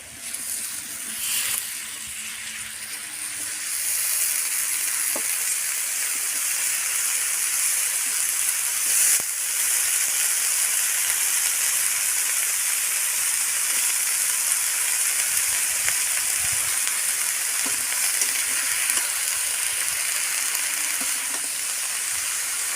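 Fresh bottle gourd greens sizzle steadily in a pan, a loud, even frying hiss that holds throughout with only occasional stirring scrapes and no talk.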